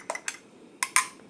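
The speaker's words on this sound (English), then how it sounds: "Beat my eggs." Eggs beaten in a bowl for a Japanese sanshoku don, several quick clinking taps and whisks in two short bursts, close and fairly quiet with no talk.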